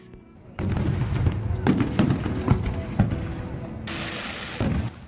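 Fireworks on bonfire night: a string of sharp pops and crackles over a continuous hiss, ending in a brighter whizzing burst, loud and close.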